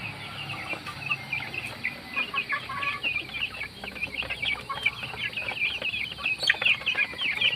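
Pet chickens are heard at feeding time, clucking and chattering busily in a steady, overlapping stream. Occasional louder squawks stand out, and the birds sound fairly close.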